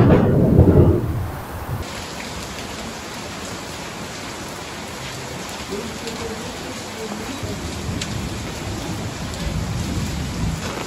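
Heavy rain falls in a thunderstorm, a rumble of thunder at the start giving way to a steady, moderately loud hiss of rain with no talk.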